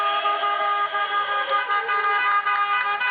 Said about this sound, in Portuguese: ao som das buzinas